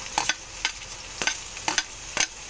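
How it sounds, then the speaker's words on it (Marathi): Chopped tomato tossed into a hot pan for masala pasta, giving repeated close, crisp bursts of sizzling and stirring scrapes in an irregular rhythm. "त्याच्यात मी बारीक चिरलेला टोमॅटो टाकते."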